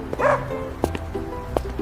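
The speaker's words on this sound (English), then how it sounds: "A dog, a small dog." A small dog yips and barks in a few short, sharp bursts spaced apart, fairly close, with light background noise between them.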